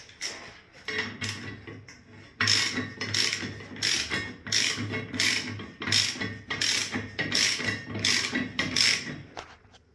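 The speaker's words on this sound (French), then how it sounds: "j'ai pris la clé mécanique avec moi et à l'aide de clé mécanique, c'est parti les serrages" A ratchet wrench tightening large 17 mm bolts on a basin bracket during a bathroom fit-out, clicking in a steady rhythm of about a dozen close, sharp ratcheting strokes with brief gaps between them.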